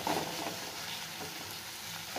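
Spiced masala paste for a village-style brinjal curry frying in oil over a medium flame, a steady close sizzle with soft stirring scrapes throughout, no voices.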